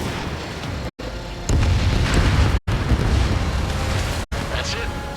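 An enemy bomber blows up in the Ace Combat 7 flight game, heard as loud, rumbling explosive booms over a constant jet roar, with several abrupt cuts of silence.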